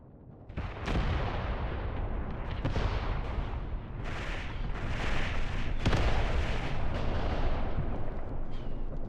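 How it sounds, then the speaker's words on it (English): Heavy artillery barrages in the World War II strategy game Mius Front, with repeated loud booms and sharp blasts over a continuous rumble of battlefield gunfire, near and dense throughout. "Now Bulk just took some good artillery fire here."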